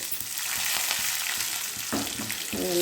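Mustard seeds, cumin, urad dal, garlic and curry leaves sizzle and crackle in hot oil for tempering, a steady close frying hiss with popping bursts that grows louder toward the end.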